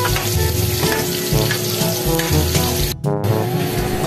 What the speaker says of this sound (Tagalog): Dito guys ay magigisa na tayo. Unahin na natin itong bawang. Tapos itong sibuyas.